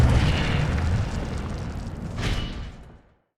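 Incendio fire spell cast in Hogwarts Legacy: a loud, rumbling whoosh of flame with a burst swelling again near the end before cutting off, no voices.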